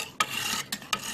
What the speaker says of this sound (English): Now this medium stone is not going to take off as much metal as that big, the coarse stone did.